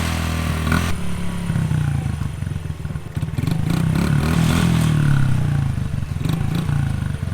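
A Honda CRF50 pit bike with a replacement carburetor idling and revving after a cold start, a loud close buzzing engine that rises and falls with throttle blips.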